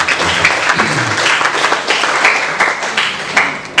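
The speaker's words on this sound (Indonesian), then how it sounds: "Tepuk tangan untuk Pak Burmasa" An audience claps for a visiting law lecturer at a guest lecture hosted by STKIP, giving a loud, close round of applause with some uneven swells and a few sharper individual claps.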